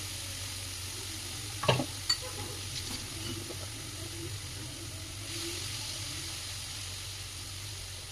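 Hot oil sizzles steadily in a pan before momo are added, a continuous even frying hiss with a couple of brief clinks or stirring knocks early on, no talk.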